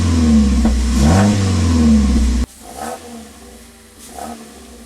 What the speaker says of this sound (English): the first startup to see how the exhaust sounds